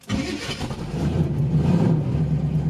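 A 454 engine in a Squarebody dually truck rumbles steadily at a low idle, close by, with a slight rise in level partway through and no voices.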